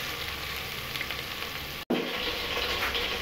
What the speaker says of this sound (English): Just putting the oil with some onion.